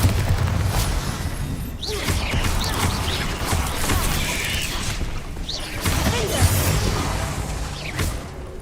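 Bombarda and Confringo explosive spells in Hogwarts Legacy combat, repeated booming blasts with whooshes and shattering debris, dense and loud throughout, with game noise layered over the bursts.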